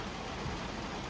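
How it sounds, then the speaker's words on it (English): A rain shower pours steadily at Animal Kingdom in Florida on a summer evening, a dense, even hiss of falling water at moderate loudness with no voices. "that was a bit of rain then, wasn't it? It's easing off now, it's getting lighter."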